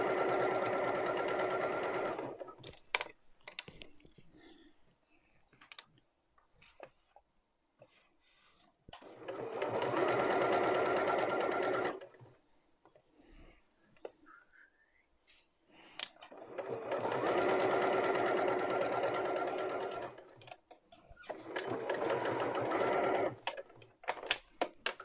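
A sewing machine stitches straight down a fabric scrunchie with a tie, running in four steady bursts of a few seconds each, separated by short pauses with faint handling noise.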